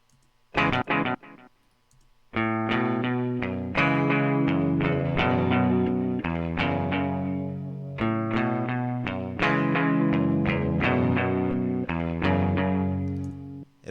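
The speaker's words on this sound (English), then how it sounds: "for the chorus, I have this guitar that comes in" A few plucked electric guitar notes, then a repeating chorded guitar pattern with reverb and delay plays on in a steady four-bar loop.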